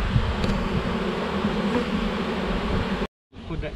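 Honeybees buzz steadily inside a hive box after frames are repositioned, a dense close droning hum that cuts off abruptly near the end.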